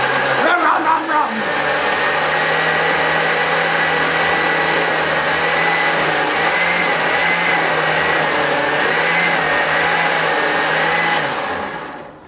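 A blender whirs steadily while blending hummus in a home kitchen, a loud continuous motor drone that holds for about eleven seconds before cutting off.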